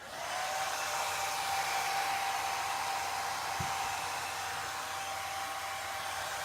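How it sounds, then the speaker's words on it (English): A handheld hair dryer blows steadily and loudly on a round chalkboard, drying chalk paste laid over cotton flower designs, a continuous airy whoosh with a faint whine and one brief low thump partway through. "Now I'm going to pull out the hairdryer again"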